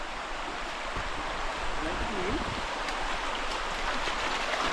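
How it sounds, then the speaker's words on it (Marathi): Steady broadband rush of a flowing village river fills the whole clip, constant and fairly close, with no voices over it. "इकडे एक गावरान नदी आपली गावरान नदी"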